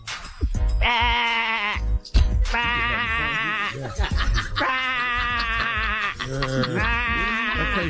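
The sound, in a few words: person imitating a sheep bleating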